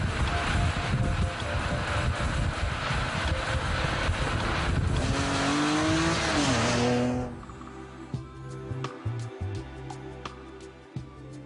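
A BMW 3 Series Compact tuned by Hartge drives past with a loud engine roar and heavy wind rush, its pitch rising and then dropping before the car fades into quieter background noise.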